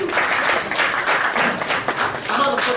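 A press conference crowd claps for a boxer's introduction, steady, moderately loud applause with voices mixed in underneath.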